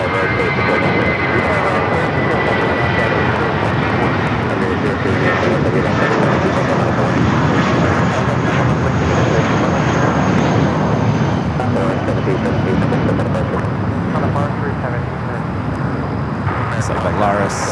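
A jet airliner departs on runway 25 Right at LAX, its engines a broad, sustained roar heard from a distance, with a voice talking over it throughout.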